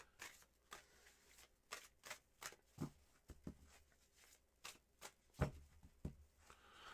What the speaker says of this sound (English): shuffling again for a cleansing shuffle